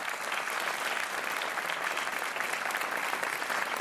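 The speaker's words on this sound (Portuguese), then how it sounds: "Um aplauso para Ana Antunes." Studio audience on the Portuguese TV game show Joker applauding a contestant, a steady, dense wash of clapping that stays loud and even from start to finish with no talk over it.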